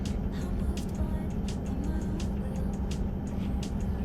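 Steady low rumble of a truck driving along a road in a downscaled driving video game, a continuous engine drone held at an even level with faint scattered clicks above it.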